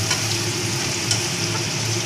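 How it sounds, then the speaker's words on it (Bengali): Spice paste frying steadily in a pan as diced capsicum is stirred in, a continuous close sizzle with soft scraping stirs and a faint steady hum underneath. "মশলাটা ভালো ভাজা হয়ে যাওয়ার পর আমি এর মধ্যে দিয়ে দিচ্ছি অর্ধেক ক্যাপসিকাম"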